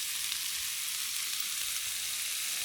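Beef and bean sprouts stir-fry in a pan with a soft, even hiss of frying that carries on without a break, fairly quiet and close, with no voices.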